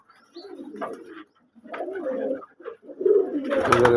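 Pigeons coo at a pigeon farm, several close, throaty rolling coos in short bursts with brief pauses, growing denser and joined by wing flutter at the end.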